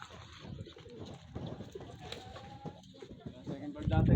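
Racing pigeons coo faintly as they return to the loft during a derby race in Candelaria, Quezon, with people talking over them and a rising rustle at the end.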